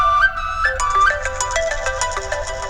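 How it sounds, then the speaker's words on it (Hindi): Mobile phone ringtone from an incoming call, a bright melodic electronic tune of shifting notes playing continuously and fairly loud, with no talk over it. "रोशनी का फोन आ रहा है।"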